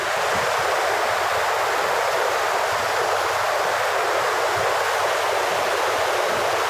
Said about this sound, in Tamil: தண்ணி ஓடுற சவுண்டு எப்படி இருக்குன்னு நீங்கள் கேளுங்கள்